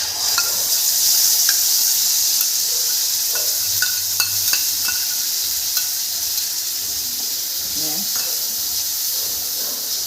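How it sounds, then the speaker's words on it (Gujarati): Asafoetida dropped into hot oil on a low flame, sizzling steadily with a broad, even hiss, with a few light scrapes and clinks of stirring throughout. "આમાં થોડી હિંગ નાખીશું અને ગેસની એકદમ ધીમી આંચ કરી દઈશું."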